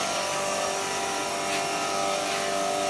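An electric grinding machine mills dried turmeric roots with a steady, loud whirring drone and gritty hiss, constant throughout with no talk.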